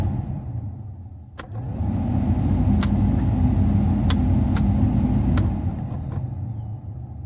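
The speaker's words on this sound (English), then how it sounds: "We've got blower motor." Blower motor in a Mercedes parts car switches on after about a second and runs as a steady, close, even whoosh, with a few faint clicks over it and no talking.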